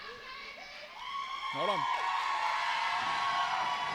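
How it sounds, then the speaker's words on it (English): A wrestling event crowd swells from murmur into cheering and whoops that grow louder and hold, with a brief shouted voice cutting through partway and a short spoken remark near the start. "right now you can hear the crowd"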